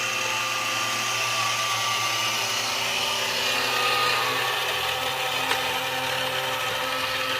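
The small electric motor of a Western Star 49X RC truck whirs steadily as it lifts the tailgate, a continuous close, even hum.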